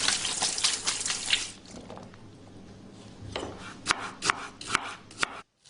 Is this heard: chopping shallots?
yes